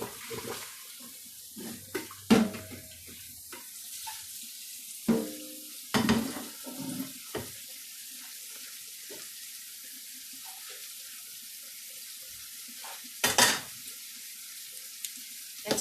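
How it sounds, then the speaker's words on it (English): Pasta and water dumped from a pot into a colander during a chicken parmesan cook, a few splashy pours and rushes of water with quieter kitchen handling between them. "dump your pasta into your colander, add a little bit of water"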